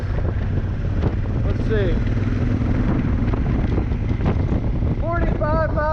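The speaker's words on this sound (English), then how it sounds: "It's so windy out today" Steady wind buffeting from riding a Honda Africa Twin adventure motorcycle in gusty weather, a constant broadband roar through the whole stretch with engine drone beneath and a voice speaking briefly over it.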